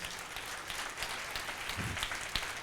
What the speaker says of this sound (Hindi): बस इतनी सी ताली इतनी बड़ी बात पर